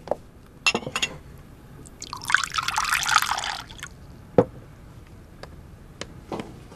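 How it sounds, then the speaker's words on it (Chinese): Water is poured into a glass indoors as one steady close-up trickle lasting a couple of seconds, set between a few light clinks and taps, with no talking. "我给你倒水。"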